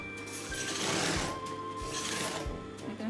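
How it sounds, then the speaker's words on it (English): A sewing machine stitches a curved seam on a six-piece mermaid skirt, with a continuous rapid mechanical whirring and needle chatter, close and steady with slight changes in speed. "When you get this curve, sew it just the way the curve is."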